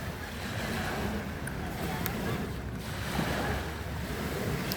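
Sea waves surging and breaking along a shoreline on a late-summer beach, a steady broadband wash with gusts of wind buffeting the microphone throughout, no distinct individual crashes.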